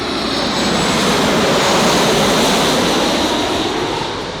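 A large Southwest Airlines jet passes low overhead, a loud, continuous engine roar that fills the air and swells slightly at its peak before beginning to fade.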